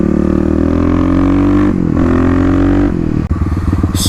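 Kawasaki KLX351 dirt bike with its airbox lid removed, engine revving loud and close, a steady high rev that dips briefly and climbs back, then drops to a choppy idle-like pulsing.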